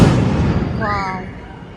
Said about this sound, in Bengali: খালি আওয়াজই পাচ্ছি খালি বাজি ফাটছে বাজি ফাটছে